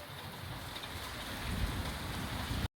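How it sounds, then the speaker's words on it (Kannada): Heavy nighttime rain pours in Sagar as rainwater flows, a close, continuous broadband roar that slowly swells before stopping abruptly. "ಮಳೆಗೆ ಹೇಗೆ ನೀರು ಹರಿತಾ ಇದೆ ನೋಡಿ"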